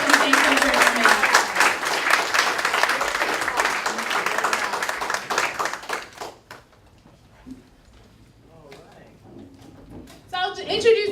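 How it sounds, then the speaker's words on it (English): An audience claps to welcome speakers onto the stage at a civil rights event, strong applause for about six seconds that thins to scattered claps and quiet, with a voice returning at the close. "Give them a round of applause and thank them for coming."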